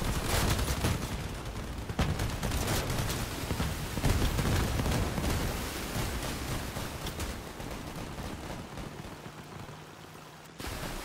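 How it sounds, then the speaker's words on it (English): Shotgun fire in the vehicle combat game Crossout, a dense barrage of blasts and gunfire over a rumbling engine-heavy battle, loud and continuous with sharper reports around the second and fourth seconds. "Shotgun around me."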